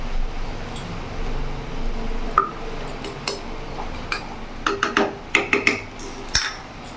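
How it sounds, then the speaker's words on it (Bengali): A ladle or spoon stirs ridge gourd mung dal finished with ghee in a metal pot, giving scattered scraping clinks and taps that grow denser and sharper toward the end against a low kitchen hum. "ভালো করে নাড়াচাড়া করে নেব"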